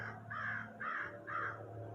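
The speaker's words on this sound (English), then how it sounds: "this raven behind me seems to have something to say too" Three harsh, croaking raven calls ring out in an even rhythm, each about a quarter second long, fairly close and loud over a steady low background hum.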